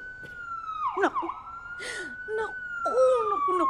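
A police siren wails outside a gate, its tone sliding up and down and fairly close, with brief vocal sounds around it.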